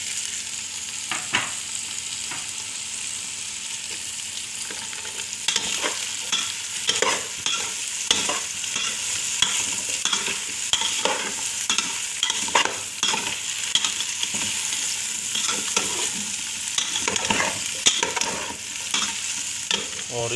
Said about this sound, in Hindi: थोड़ा सा हम बेह को फ्राई करेंगे इसी ऑयल में प्याज के साथ